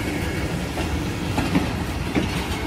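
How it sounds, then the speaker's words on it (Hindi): Lasani Express passenger train rolling past Shahdra railway station in Pakistan while changing tracks, with a steady rumble and rhythmic clickety-clack of wheels over rail joints, heard from close by without talk. "देखिए किस तरह ये ट्रैक को चेंज करते हुए गुजर रही है ट्रेन"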